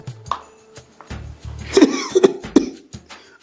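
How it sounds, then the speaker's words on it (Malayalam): A man coughs a few times in short, harsh bursts, close by, with brief pauses between coughs and no talking. "എന്തൊരു ചുമയാ മനുഷ്യ"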